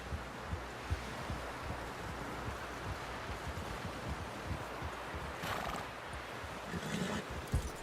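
Horse hooves thud in a steady rhythm in Red Dead Redemption 2, with a brief whinny rising over the low, rumbling game ambience toward the end.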